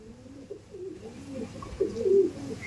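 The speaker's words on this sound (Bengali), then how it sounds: "এই দেখুন, এটা একটা ফিমেল পায়রা" A pigeon at a racing-pigeon loft gives low, soft cooing murmurs that swell toward the end, close but quiet against background hum.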